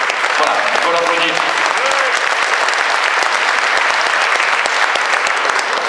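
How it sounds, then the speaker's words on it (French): Loud, sustained applause fills a hall for an alto sax player in a variety orchestra concert, with dense clapping at a steady level and voices murmuring faintly underneath. "il faut l'applaudir"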